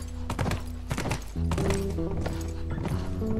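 Horse hooves clip-clop in a PlayStation 4 session of The Last of Us during a chase on horseback, a steady galloping patter up close with game music and a brief whinny-like sound mixed in.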